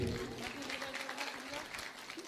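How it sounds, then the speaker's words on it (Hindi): Audience applause for a guru at a spiritual discourse celebrating a new ashram, steady clapping running throughout with a voice murmuring faintly underneath. "बहुत बहुत तालियां हो जाए गुरु जी के लिए।"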